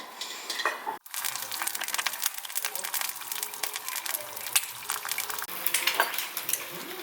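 Close-up clatter of a utensil scraping and stirring mi goreng noodles in a pot, over a continuous sizzle of frying, with faint voices in the background.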